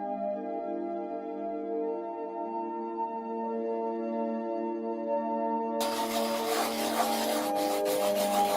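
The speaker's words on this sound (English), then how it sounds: "I'll just sand the edges down now." The edges of a river find being sanded by hand, a steady close rasping rub that starts abruptly after a long sustained harmonic tone and continues loudly to the end.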